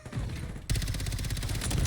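Rapid automatic gunfire in a Call of Duty match, opening with scattered shots and then breaking into a loud continuous burst of fast, evenly repeating rounds.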